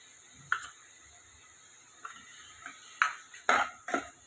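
A spoon stirs mushrooms with turmeric and salt in a pan, giving a few sharp metallic scrapes and clinks, sparse at first and then clustered toward the end, quiet and close with no talking.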